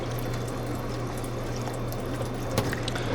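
Water poured over the dirty tires of an RC crawler car on an indoor/outdoor crawler course, a steady close wash of liquid running throughout with a brief splashy spike near the end.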